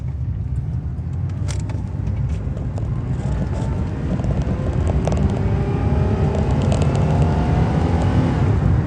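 A Pontiac Bonneville engine rumbles steadily close to the microphone and is goosed into brief revs, with wind buffeting the mic throughout.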